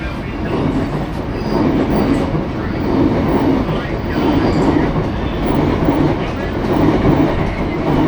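A new Baltimore subway train passes close by, a loud steady rumble of wheels on rail with clacking and faint squeals, and voices murmur underneath.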